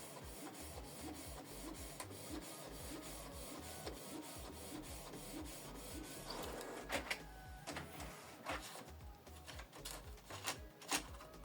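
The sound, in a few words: inkjet printer printing a photo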